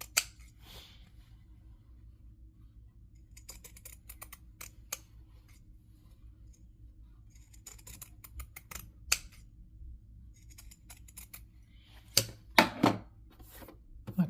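Pinking shears snip the corners of a sewn fabric piece on a quiet tabletop, giving scattered crisp clicks and short runs of snips, with a louder cluster of cuts near the end.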